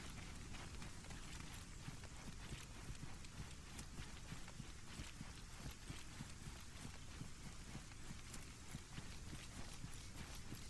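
Hooves of a rideable cow in the Arma 2 game, a steady rapid clip-clop of running footfalls that holds through the whole stretch, fairly close, with no talk over it.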